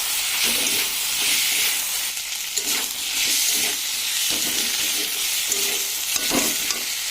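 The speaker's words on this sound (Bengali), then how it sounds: "এগুলো আমি দিয়ে দেবো ফুলকপি আলু, একসাথে ভালো করে কষিয়ে নেবো" Cauliflower and potatoes frying in a pan, with a continuous sizzle and hiss broken by several scraping stirs of a spatula, close and steady with no voices.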